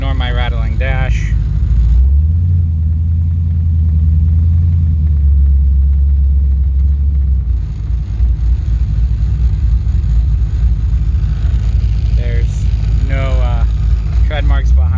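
LS1-engined car pulling hard in first gear, a loud low engine rumble rising and holding under road noise from inside the cabin, with someone talking over parts of it.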